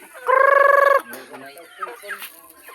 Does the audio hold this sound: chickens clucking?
yes